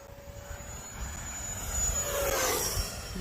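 An E-flite Viper RC jet airplane flies at a little over half throttle, its ducted-fan whine steady and moderately distant, rising in pitch and loudness as it passes closer near the end.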